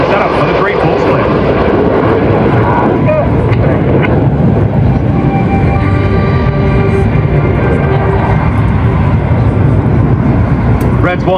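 Red Arrows display team jets fly at an air show, with a loud, steady roar of aircraft engines close by and a commentator talking over it throughout.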